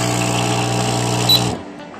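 A capsule espresso machine's pump runs with a loud, steady buzzing hum, then cuts off abruptly partway through, leaving near silence.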